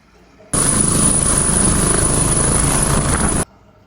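A helicopter descends toward a small helipad, its rotor and engine making a loud, steady whooshing roar that starts suddenly, holds for about three seconds, then cuts off sharply.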